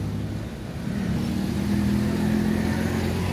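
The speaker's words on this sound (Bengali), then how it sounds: "আমি একটা স্কুটি নিলাম রেন্টালে, 125 সিসি।" A rented 125cc scooter engine hums steadily on a Srinagar street, with its drone rising slightly as it picks up speed partway through, close and moderately loud.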